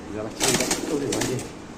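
Pigeons coo close by in soft, throaty bursts while people talk over them.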